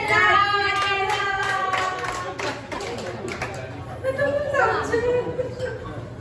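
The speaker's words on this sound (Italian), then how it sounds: "Vai Maria, bravissima, un applauso a Mariella!" A small group claps for Mariella in a home kitchen while making Sicilian meat pastiere, a scattering of hand claps mixed with cheerful talking voices.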